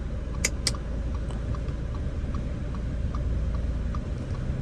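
Hazard lamp of a 2013 Audi A4 2.0 TDI ticking inside the cabin, soft regular clicks about every half second under a low engine and road rumble, with a couple of sharper knocks near the start.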